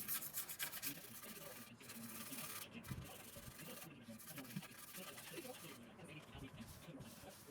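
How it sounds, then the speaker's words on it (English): Grime is scrubbed off an Onkyo A-8037 amplifier with a brush, producing rapid, continuous rasping strokes close up, broken by brief pauses. "Then we'll start scrubbing it."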